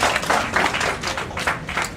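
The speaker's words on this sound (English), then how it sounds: "Give her a big round of applause" Applause from an audience at an awards gathering, a dense patter of hand claps with no voices over it, fairly near and steady across the moment.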